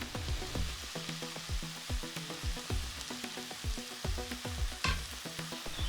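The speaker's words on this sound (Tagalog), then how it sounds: "Halu-haluin ito gamit ang 2 wooden spoon or long chopsticks." Wooden spoons or long chopsticks toss pancit bihon noodles in a hot pan, giving repeated scraping and clacking strokes in a steady rhythm over a continuous close sizzle.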